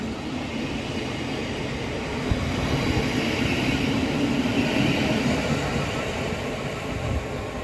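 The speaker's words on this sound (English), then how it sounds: "There's a train that's stopping on platform 1." A train rumbles steadily nearby at Littlehaven station on the Arun Valley Line, wheels rolling on track in a continuous broad roar without a clear start or stop.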